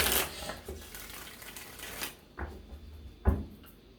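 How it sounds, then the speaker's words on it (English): Tarot cards are shuffled up close, making a few short papery riffling bursts with brief pauses between them. No one speaks. "I'm going to give this 3 shuffles"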